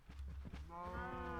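Video game cows being bred: a brief lowing animal call, a short moo-like bleat rising out of soft background clatter, faint and alone.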